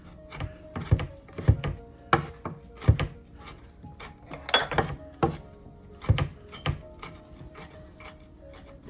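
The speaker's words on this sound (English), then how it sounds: "And then we rough chop it." Knife rough-chopping peppers on a wooden board, a string of irregular sharp knocks and taps at close range with short pauses between bursts, no talking.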